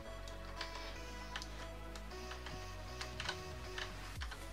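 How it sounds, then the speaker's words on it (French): Computer keyboard keys clatter in quick irregular bursts, faint and close, with a steady low background hum and no speech. "Même moi j'entends là ces touches du clavier."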